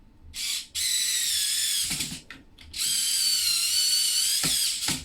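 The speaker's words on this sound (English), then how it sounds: "I do love this electric screwdriver, it's just made this build a lot easier." Electric screwdriver driving screws into a Tamiya TT01 Type E racing truck RC chassis, two sustained high whirring bursts with a brief pause between them and short clicks of the bit at the end, close and loud with no talk.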